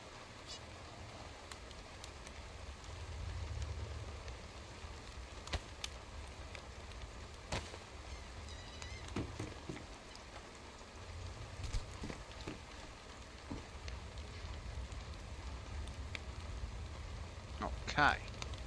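A rainstorm in the DayZ video game makes a steady, even hiss of falling rain throughout, with a few faint scattered knocks and patters on top.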